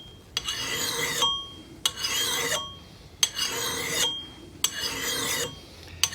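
Four slow, even strokes of a file rasping across an axe blade, each a harsh metallic scrape about a second long, close up.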